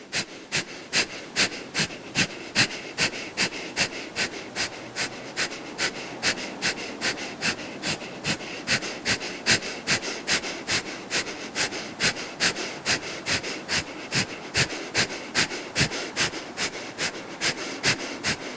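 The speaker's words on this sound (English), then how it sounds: "We're going to start our breath of fire." Rapid, rhythmic breath of fire during a Kundalini yoga kriya: sharp nasal exhales pulse steadily at about two to three per second, close and even, with no talking.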